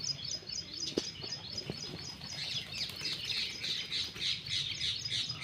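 Birds give repeated high squawks and chirps in a steady, close series while a red pigeon is caught and handled, with a few sharp knocks mixed in.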